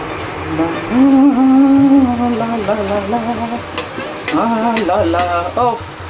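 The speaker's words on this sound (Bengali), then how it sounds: "তো চলো রান্না করে ফুলকো ফুলকো লুচি ভাজি" Puffed luchi flatbread frying in hot oil gives a steady, dense sizzle throughout, overlaid by prominent sustained melodic tones.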